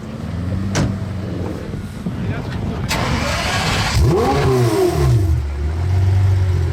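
A Pagani Zonda V12 drifting on snow revs hard in several sweeping bursts, its engine note climbing and falling loudly and close, mixed with people talking and exclaiming nearby.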